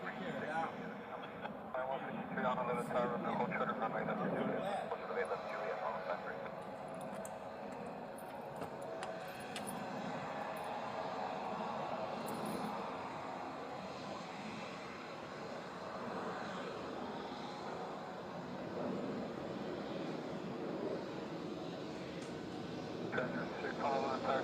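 Airplane at Honolulu airport, a steady distant engine roar filling the scene while radio chatter and voices talk over it throughout.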